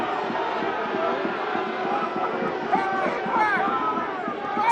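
A stadium crowd at a professional soccer match reacts to a replay with a continuous babble of voices, scattered shouts and whistles rising toward the end.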